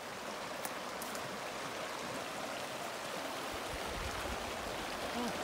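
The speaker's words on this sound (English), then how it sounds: "Water!" A flowing mountain stream rushes steadily nearby on an autumn trip to the mountains, a dense, even wash of water with no breaks or talk.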